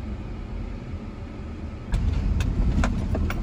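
A stuck car's engine idles steadily, then revs louder partway through as the car is worked free, its low mechanical drone continuing close by.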